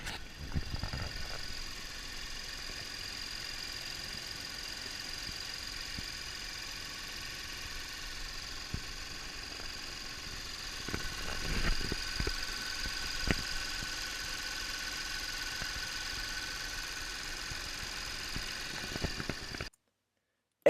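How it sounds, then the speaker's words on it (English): A 2008 Audi A6 Avant engine idles steadily after a cold start with a low, even rumble and faint knocking texture. The hum carries on unbroken until it cuts off at the end. "Ideally, a cold start is the best way for checking an engine"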